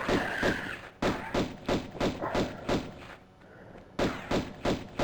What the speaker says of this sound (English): I'm going to start shooting because there he is